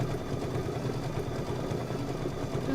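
A Kimberbell Cuties table-topper project runs through an A1 Reno sewing machine on a decorative stitch, giving a steady, continuous low mechanical hum and rapid needle chatter at even loudness throughout.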